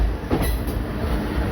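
Passing train hauled by a WAP-5 electric locomotive from the Ghaziabad shed, heard at Motichur station on an Indian Railways line: a steady, moderately loud rolling rumble of wheels on rails with a faint high whine.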